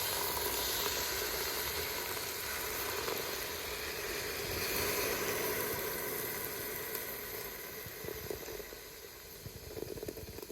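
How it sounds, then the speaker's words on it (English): Beer poured into a hot pressure cooker pot while deglazing gives off a loud, continuous sizzle and hiss of steam. It stays close and steady, then grows more bubbly and uneven toward the end, with no talking. "We're going to open the beer and then add some of that into the pot."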